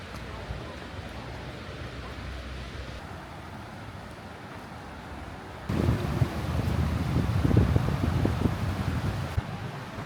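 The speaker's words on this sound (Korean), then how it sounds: "이곳은 서대문에 위치한 홍제 폭포입니다." Rushing water at Hongje waterfall in Seodaemun, Seoul. A steady broadband roar mixed with wind buffeting grows noticeably louder and fuller partway through.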